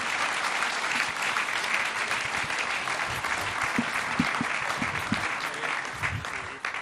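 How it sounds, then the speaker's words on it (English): Audience applause at a business panel event for northern entrepreneurs, a steady wash of clapping that holds loud for nearly seven seconds before starting to thin at the end. "Can we please get a round of applause for these four?"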